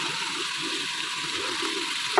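Bottle gourd with mutton and green chilies fries in a pot, a soft steady sizzle with a faint stir or scrape right at the end.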